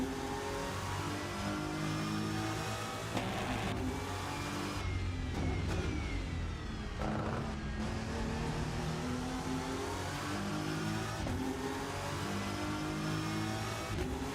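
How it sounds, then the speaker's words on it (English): A race car engine from the Rennsport racing game drones and revs steadily from the cockpit view, with the pitch rising and falling through gear changes, continuous and fairly quiet, with no talking. "The noise of the car inside."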